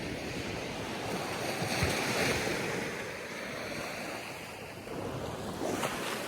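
Ocean waves and gusting wind on the coast of Mull, Scotland, a broad roaring wash of surf with buffeting wind noise on the microphone, swelling and easing over several seconds, no one speaking.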